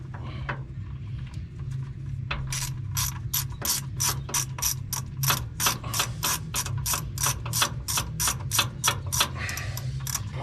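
A ratchet works on the exhaust manifold bolts of a 1976 Dodge D100 pickup truck, giving a fast, even run of close clicking strokes after a brief quieter start.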